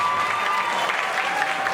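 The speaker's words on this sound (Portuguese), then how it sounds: "Uma salva de palmas." Audience at a ballroom voguing event in Joinville breaks into dense, steady applause, a brief unbroken wash of clapping with a faint electronic tone beneath.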